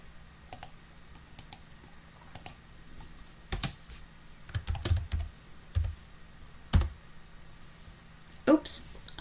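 Scattered keystrokes and clicks on a computer keyboard, coming in short irregular bursts with pauses, fairly close and moderately quiet, with a voice talking in the background.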